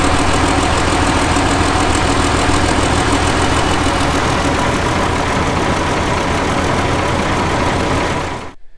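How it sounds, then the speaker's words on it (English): Diesel engines of two Stalwart Mk2 vehicles idle together, a loud, dense, steady clatter close by that continues for several seconds before cutting off abruptly at the end. "I'll fire them up now and we can compare the two engines."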